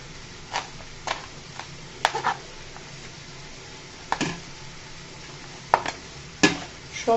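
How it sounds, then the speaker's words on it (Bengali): Jute leaves (pat shak) being chopped by hand on a board in a kitchen, with sparse, irregular knife taps and light rustling against a steady low background, no talk. "সম্পূর্ণ শাক আমি এভাবে কেটে নিচ্ছি।"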